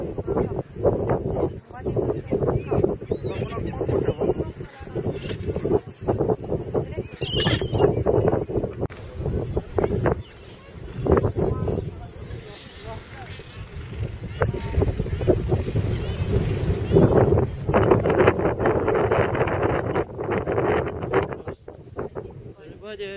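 Strong wind buffets the microphone on Saunders Island in the Falklands, a continuous rough roar and rumble with gusts swelling and easing throughout, loud and close, with no voices.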